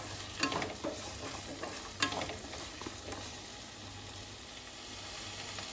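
Sambar being stirred in a pan over a medium flame, a steady soft sizzle with a few scraping strokes of a spoon, close and without talking.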